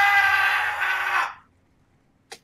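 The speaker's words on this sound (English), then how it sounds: "That was a pussy scream." A person lets out one loud, sustained scream that cuts off abruptly, followed by quiet and a brief faint sound near the end.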